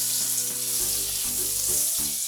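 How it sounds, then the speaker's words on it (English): Butter and a little sugar sizzle in a hot pan, a bright continuous hiss of frying with faint clinks of a utensil underneath, close by and steady. "oh, good sizzle on that."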